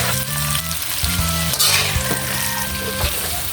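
Bottle gourd (upo) sautéing in a pan for ginisang upo with sardines, a steady crackling sizzle with occasional stirring scrapes and low clatter throughout, close and fairly loud with no talk.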